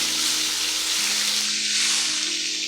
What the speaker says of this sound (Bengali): এখন এরকম ভর্তি 2 চামচ পেঁয়াজ বাটা দিয়ে দিলাম